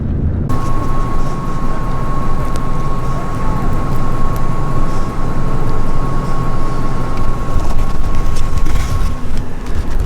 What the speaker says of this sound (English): we are driving down our road right now